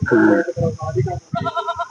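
A goat bleats loudly up close, with more bleating mixed among people talking nearby at a village goat market.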